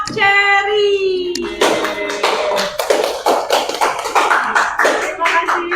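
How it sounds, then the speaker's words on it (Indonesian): A classroom of students claps for group Cherry, sharp irregular hand claps that follow a teacher's voice and continue in scattered bursts. "kita beri tepuk tangan untuk kelompok Cherry"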